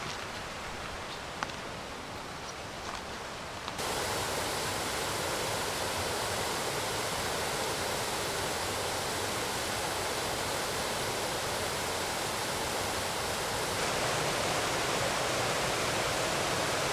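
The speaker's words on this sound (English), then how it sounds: "A lot of waterfalls, wee waterfalls." Small waterfalls in the Cairngorms in winter rush in a constant broadband splash that swells suddenly after a quiet start, then stays loud and even.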